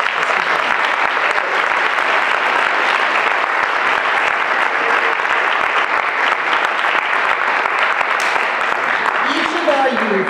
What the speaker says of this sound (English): let's give our youth another round of applause.